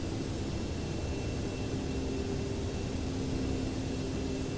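A DC-8-73F jet in Flight Simulator X drones with a constant, dense engine roar and a faint steady tonal whine, unbroken from start to finish with no voices.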